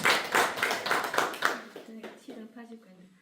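Audience at a literary book talk applauding to welcome a speaker to the front, a brief burst of clapping that fades after about a second and a half as a voice begins talking.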